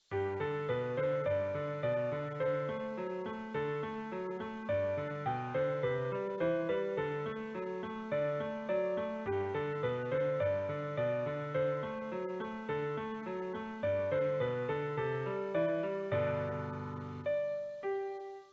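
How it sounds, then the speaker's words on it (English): Piano melody played over repeating broken chords at a steady, moderate tempo, sounding alone for the whole stretch before a brief trailing chord. "Let's have a listen to our new melody, which now sounds like this."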